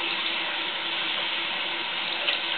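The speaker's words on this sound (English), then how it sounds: "you're going to turn the water to warm." Warm water streams steadily from a sink tap onto a person's hands, a constant close hiss of running water with no pauses.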